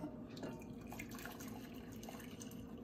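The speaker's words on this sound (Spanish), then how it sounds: "Entonces le dejo caer un poco de agua." Water poured into a cooking pot holding wormwood for tea, a quiet continuous trickle with faint splashy patter, close by and steady throughout.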